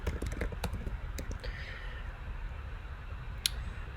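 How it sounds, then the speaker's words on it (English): Keys clatter on a computer keyboard as a date, name and question are typed in, with quick uneven bursts of clicks that thin out to a few isolated taps and one sharp click. "We will type the date, our name, and our question."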